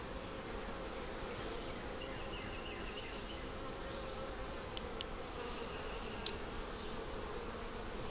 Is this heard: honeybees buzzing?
yes